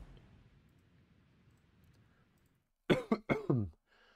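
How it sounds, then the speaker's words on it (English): A person coughs in a tight burst of three or four harsh, loud coughs close to the mic, following a stretch of quiet low background rumble from a game stream setup. "I'm so bored of his cough"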